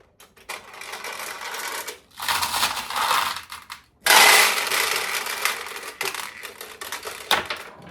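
Steel balls rattling and clattering through a restored 1952 vintage pachinko machine, in dense bursts of rapid metallic chatter separated by brief pauses, loud and close.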